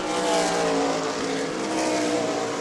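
Super late model race cars roaring past at New Smyrna in a Sunbelt Series race, a loud dense engine drone with a rising and falling pitch as the cars sweep by.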